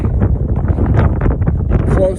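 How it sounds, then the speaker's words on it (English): Strong wind on a Colorado mountain summit (Mount Silverheels) buffets the microphone in loud, rumbling gusts, roaring continuously with no other clear sounds. "It is so windy."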